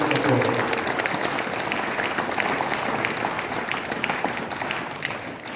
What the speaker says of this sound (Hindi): आपसे जोरदार ताली की फरमाइश करता हूँ